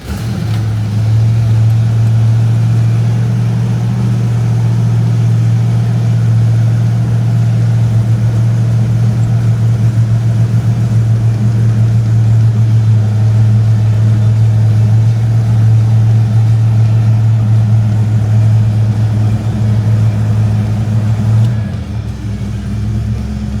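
A 1969 Ford Mustang Mach 1 with a 428 Cobra Jet big-block V8 idles loud and close with a steady deep rumble for over twenty seconds before shutting off near the end.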